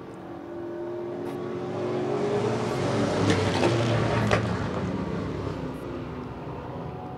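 Race cars running three wide through the first corner of a track, a broad engine roar that swells as the pack passes and then fades slightly, heard from a distance.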